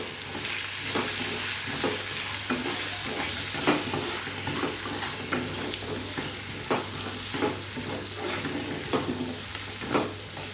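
Potatoes and onions seasoned with turmeric and salt are stirred in a frying pan, a continuous sizzle broken by regular scraping strokes of the spatula, close and steady with no talking.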